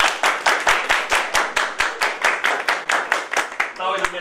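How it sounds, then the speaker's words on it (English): High school science class clapping their hands in a steady, rhythmic beat, loud and close, with sharp claps repeating evenly about four times a second, and a voice speaking briefly near the end. "everybody, clap your hands."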